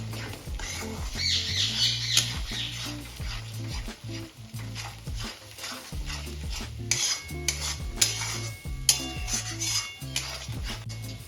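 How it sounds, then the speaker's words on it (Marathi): Eggs being stir-fried in masala in a large wok, with repeated metal spatula scrapes and clanks in an irregular rhythm over a light sizzle, loud and close, with no speech. "भुर्जीसारखंच आपल्याला हे अंडे परतून घ्यायचे आहे"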